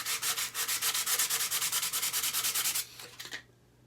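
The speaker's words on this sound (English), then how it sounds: "That's going to take a lot of sanding to fix." Sandpaper rubs back and forth on a Grohmann No. 4 survival knife kit handle in quick, even strokes, about eight per second, close and loud. The strokes slow and scuff unevenly before stopping.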